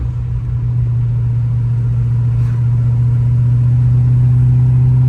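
An S10 truck with a 6.0 engine swap and T56 transmission drives along, its engine a steady, loud mid-pitched rumble with a strong low drone that holds throughout, no voices.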